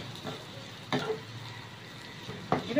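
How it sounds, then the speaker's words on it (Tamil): Soft, steady sizzling of onions frying in oil in a pan for fish curry, with a few brief louder stirs or crackles. "இது நல்லா ப்ரௌன் கலர் வர்ற வரைக்கும் நம்ம வந்து இது வறுக்கணும்"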